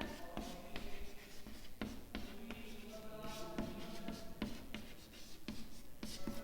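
A heading is written on a classroom board during a physics lecture on Fraunhofer diffraction, heard as a run of close, sharp taps and short strokes at an irregular writing rhythm, with no talk over it.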